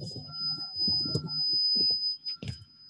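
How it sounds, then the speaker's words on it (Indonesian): A steady high-pitched buzzer alarm on an ESP32 and Arduino smart home system device sounds continuously while a person talks and moves about nearby. "buzzer menyala"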